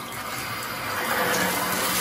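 Water runs from a newly installed Moen shower valve in a bathroom, a steady hissing gush that swells slightly louder toward the end, with no talking.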